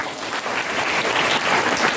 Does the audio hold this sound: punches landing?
no